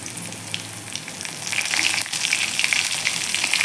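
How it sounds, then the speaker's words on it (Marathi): Garlic and green chilli frying in hot oil with a pinch of asafoetida, a bright crackling sizzle that grows louder and busier halfway through, close and with no voices. "हे छान असं आपल्याला लसूण मिरची परतून घ्यायची आहे थोडासा हिंग घालायचा आहे"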